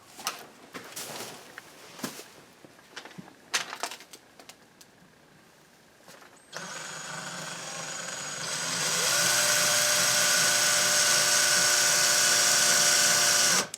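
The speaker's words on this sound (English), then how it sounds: "it was drilling into the sheetrock nice and easy, and all of a sudden it stopped" Quiet handling clicks, then a power drill spins up and whirs steadily and loudly up close, its motor pitch shifting as it bites through sheetrock into a wooden beam.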